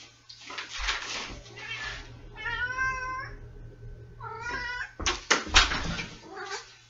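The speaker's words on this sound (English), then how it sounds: "Oh my gosh, my cat's outside." A cat outside meows and caterwauls in several drawn-out, loud, wavering cries with a few scuffling knocks among them, and no voices over it.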